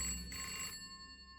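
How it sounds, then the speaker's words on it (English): A telephone in the game hello girl rings once, a short electronic trill with a sustained tone that fades away into quiet, faint and alone. "The phone. I didn't know there was a phone here."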